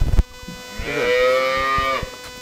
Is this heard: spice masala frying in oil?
no